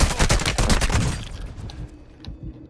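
Rapid automatic gunfire on Ashika Island in Call of Duty, a dense burst of close, loud shots for about a second before dying away into a fading tail with a faint distant pop.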